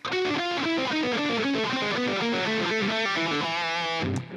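Fast, crisp, hybrid-picked distorted electric guitar lick from a song, rapid notes tumbling up and down before a final held note and abrupt stop.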